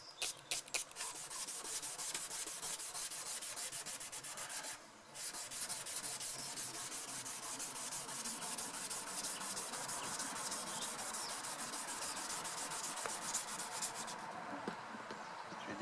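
Abrasive paper scrubs a yellowed Peugeot 206 headlight, part of a FAB-B renovation kit, in steady, continuous back-and-forth rubbing close by, with a brief pause partway through and no talking.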